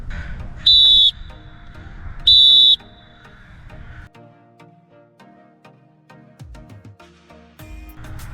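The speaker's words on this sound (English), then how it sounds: "you blow the whistle and signal this way" Two sharp, loud referee whistle blasts on a soccer pitch, each lasting about half a second with a short gap between them, followed by quieter background sounds.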